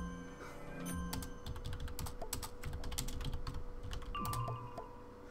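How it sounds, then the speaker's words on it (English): A computer keyboard clatters steadily with rapid, irregular keystrokes during a Wizard101 boss battle, close and fairly quiet over faint game sounds. "I know I'm getting a little bit of typing clatter here"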